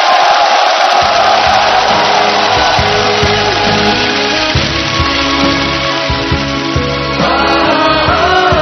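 An audience at an outdoor military-stage gala concert cheers and applauds to welcome a mezzo-soprano singer, a dense crowd roar blending with swelling music underneath.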